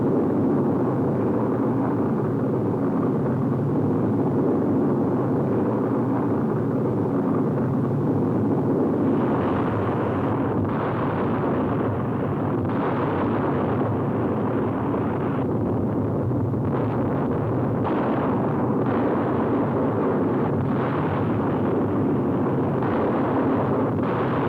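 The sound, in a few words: RAF daylight bombing raid on a radio plant, 1943 newsreel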